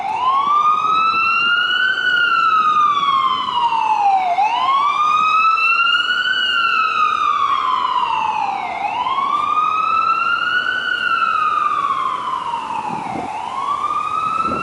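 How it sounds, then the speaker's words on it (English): A loud wailing ambulance siren sweeps up and down over and over, close and continuous, as it passes by in street traffic. "wait for this ambulance to go by"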